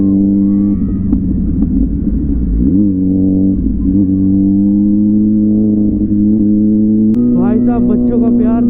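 Kawasaki Z900 motorcycle revving hard on a highway, a loud close engine roar that rises and shifts through gears, with a rider talking over it.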